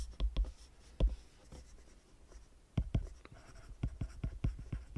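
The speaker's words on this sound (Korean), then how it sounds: "얘를 보라색으로 써볼게요." Marker strokes on a board during a physics lecture, a run of close, quiet taps and scratches in irregular bursts with brief pauses, no talking.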